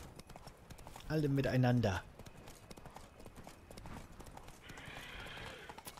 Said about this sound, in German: Einfach reiten.